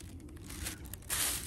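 A plastic bag crinkles as it is wrapped around a ripe dragon fruit on the plant, a short, soft rustling and crackling close by that grows a little louder toward the end.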